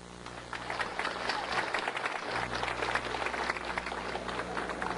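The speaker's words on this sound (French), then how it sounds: "On applaudit." Audience applause at a tribute ceremony where honour plaques are presented, dense clapping from a crowd that begins after a brief quiet moment and continues steadily for several seconds.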